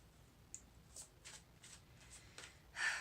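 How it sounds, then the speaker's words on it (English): Soft, quick riffles of playing cards being shuffled, several brief flutters close by, ending in a louder burst. "as I'm shuffling and dealing these out"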